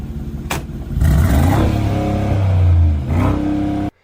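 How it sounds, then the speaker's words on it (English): Mercedes G-Wagon engine revving hard, a loud, close throaty roar that climbs, holds for about two seconds, dips and surges again before cutting off abruptly. "He basically just revs his G-Wagon"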